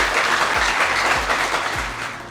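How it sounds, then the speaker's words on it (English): An indoor audience at a university launching ceremony breaks into steady applause, a dense, loud patter of many hands clapping together with no talk over it, tapering slightly at the end. "Let's do one more round of applause for Salim Rahman Sahab and his team"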